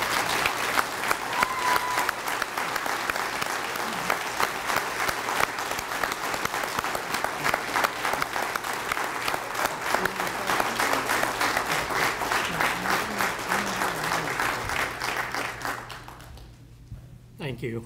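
Sustained applause from a large audience at a 2018 fire awards ceremony in Franklin, dense steady clapping for about sixteen seconds before tapering off, with some voices in the crowd.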